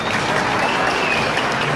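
A live audience claps for members of a music ensemble, dense sustained applause filling the room at an even loud level.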